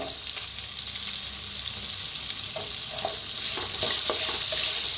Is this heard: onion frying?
yes